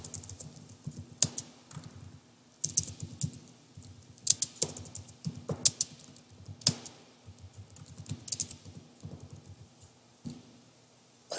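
Bursts of quick clicky keystrokes on a computer keyboard come close and clear, with brief pauses between runs of typing and no voices.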